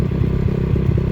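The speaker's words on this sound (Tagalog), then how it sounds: "Ngayon oh, pasok na ngayon ang motor." A motorcycle engine runs close by with a steady low rumble and slight pulsing revs, mixed with faint clattering, at a riverside village where crabs were once caught.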